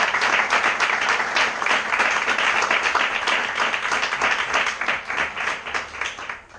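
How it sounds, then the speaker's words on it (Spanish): Applause for the tenor saxophonist at a free improvisation concert, dense continuous clapping from the audience sustained for several seconds. "un aplaudiment."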